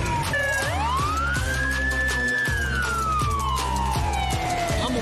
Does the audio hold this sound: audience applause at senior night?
no